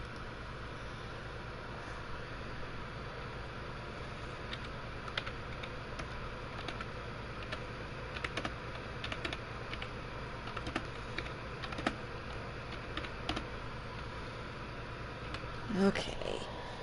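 Steady typing on a computer keyboard, close and fairly soft, a continuous patter of key clicks over low background hum with occasional louder taps.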